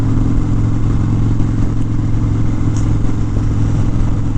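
A Harley-Davidson Dyna Street Bob motorcycle on the ride, its engine droning loud and steady close up, with a constant rumble and clatter and no voices.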